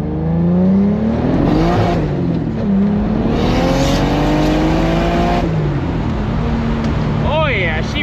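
A drift car's engine revs at a drift competition, rising and falling loudly and up close. The engine surges and holds high for several seconds before easing off, and a voice is briefly heard near the end.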